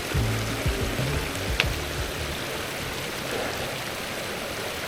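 Water from the spring at Cold Springs on Monte Sano flows in a soft, steady wash, running lighter than usual, with a few low thumps near the start and no talk.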